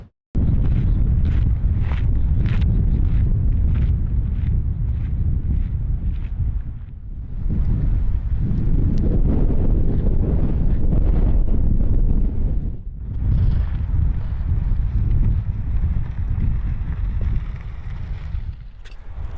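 Strong wind on the coast near Helsingborg, Sweden buffets the microphone in loud, continuous low rumbling gusts, easing briefly twice before roaring back.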